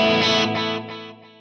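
After the electric guitar stops, delay pedal repeats keep ringing, a distorted guitar tone echoing in several diminishing pulses that steadily fade toward silence, close and alone.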